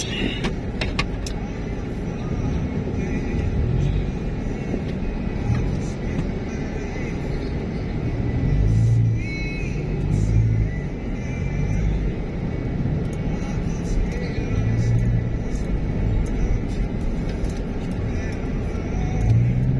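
Road traffic rumbles steadily from inside a moving vehicle on a drive from Apalit, Pampanga to Bocaue, Bulacan, with a low continuous engine and road drone and occasional passing vehicles.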